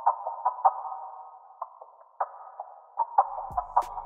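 A pitched-down musical texture processed with flanger, EQ and plate reverb: a steady hollow tone near the midrange with soft pulsing swells and a few brief ping-like accents, fairly quiet and alone.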